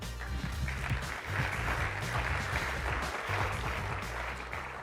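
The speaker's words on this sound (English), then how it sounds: "Give these judges a round of applause." Audience applause for judges at a startup pitch competition, sustained crowd clapping over low rhythmic background music, fairly faint overall.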